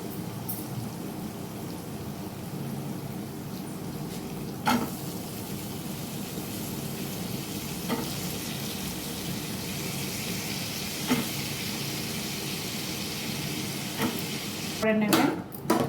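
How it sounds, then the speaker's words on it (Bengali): Figs being stirred and fried in a pan, with a steady close sizzle and soft scraping stir strokes running throughout, a few sharper utensil knocks against the pan breaking through. "ভালো করে নাড়াচাড়া করে নেব আর এই সময় আমি দিয়ে নেব ডুমুর।"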